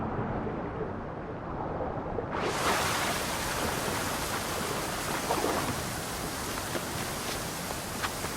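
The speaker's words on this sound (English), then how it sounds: "This is the waterfall." A waterfall in the video game Assassin's Creed Odyssey roars with a broad, steady rush of water, muffled at first and then opening up into a full, loud, continuous wash.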